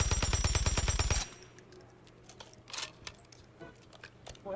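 Rapid assault rifle fire in Call of Duty MW3 multiplayer, a loud fast burst of evenly spaced shots lasting about a second, followed by quieter scattered game sounds and clicks.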